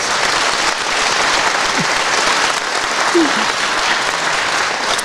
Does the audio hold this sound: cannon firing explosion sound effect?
no